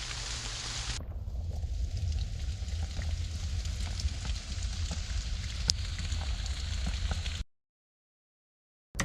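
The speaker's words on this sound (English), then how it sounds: "I'm out with the rain, I'm out with the wind, and I can stay relatively dry" Rain falls steadily on a hollow tree used as a natural shelter during a solo overnight camp, a dense hiss of patter with scattered drips, then it cuts off.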